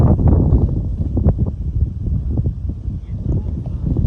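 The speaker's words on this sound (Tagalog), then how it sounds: "Lakas ng hangin." Strong wind buffets the microphone in a steady low roar with gusty bursts, loud and continuous throughout, at a Pacific-facing view deck in Dingalan, Aurora, Philippines, during heavy rain.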